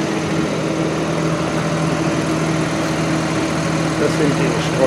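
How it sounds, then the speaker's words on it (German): Fertilizer spreader discs spinning at high speed give a steady, even mechanical whir with a constant engine-like drone that holds unchanged throughout, loud and close, while someone talks over it. "Das sind die Streuscheiben, die dann mit höherer Drehzahl rotieren."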